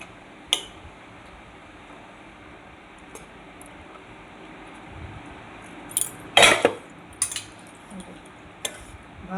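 Rice served onto a plate with a spoon: a few sparse, close clinks and scrapes, with a small cluster of sharper taps near the end over a quiet room hush. No one speaks.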